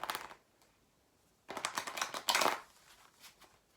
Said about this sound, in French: Le spectateur peut lui aussi mélanger le jeu.